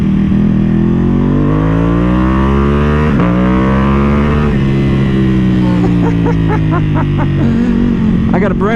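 A custom Ducati Panigale V2 motorcycle sweeps past on the road, its loud engine note rising and falling with a clear pitch shift, followed by sharp throttle blips near the end.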